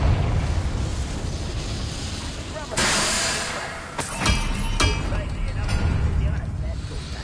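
Confringo fire spell blasts in the game Hogwarts Legacy, a sudden whooshing burst followed by sharp impact cracks, set over continuous game ambience with a voice calling out the spell.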